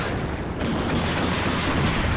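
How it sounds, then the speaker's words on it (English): Enemy artillery fire pounds a Tor air-defence vehicle in the WARNO wargame, a dense continuous rumble of distant blasts and low booms with no clear gaps, steady and loud throughout. "My Tor unfortunately caught out by enemy artillery."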